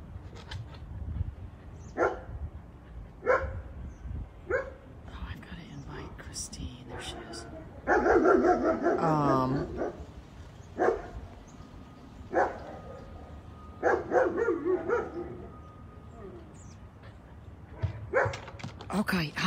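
An excited puppy barks in short bursts outdoors, with a few whimpers, while a person talks and whispers nearby between the barks.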